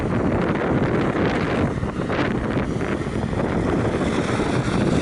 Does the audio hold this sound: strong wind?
yes